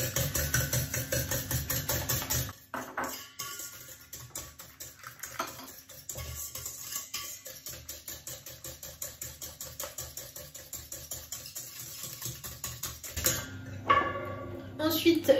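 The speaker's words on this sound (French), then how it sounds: "Et donc là, je vais mélanger mes œufs. J'ajoute 100 g de sucre en poudre." Eggs being whisked with caster sugar in a bowl, a fast steady run of clinking strokes against the bowl that pauses briefly before resuming, with a person talking over it.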